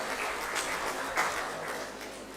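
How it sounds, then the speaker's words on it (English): Audience applause at the inaugural ceremony of a large 24-hour AI hackathon grand finale, a dense steady wash of clapping lasting a couple of seconds with no talk. "Let us give a big round of applause."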